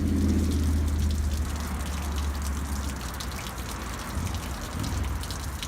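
Rusty water flushed from the cooling system of a 1993 Ford Centurion truck gushes and splashes steadily onto the ground, a constant watery rush at moderate distance with a low engine-like hum beneath.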